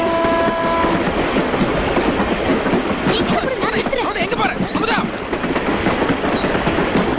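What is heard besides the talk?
passing train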